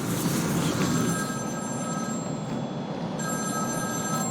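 A telephone rings in Batman: Arkham City, a steady electronic trill that pauses briefly and starts again over a dense ambient game background.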